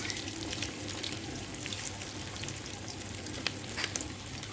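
Fish fritters made from boroli fish from the Torsa river sizzle in hot oil, a steady, close crackling hiss with occasional sharper pops throughout.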